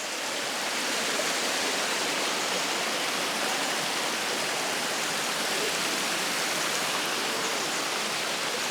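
Water pours steadily at the Ikogosi natural spring, a loud, unbroken broadband rush like a small waterfall or fast stream, close and constant with no voices.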